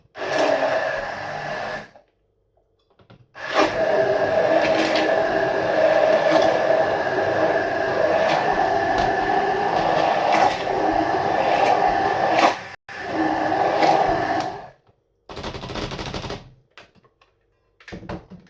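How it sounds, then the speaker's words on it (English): A hand blender purees New York style pizza sauce, with a loud, whirring motor drone running for several seconds, then stopping and restarting in shorter bursts separated by silence. "we need to puree all of this. It should help if I turned on the power."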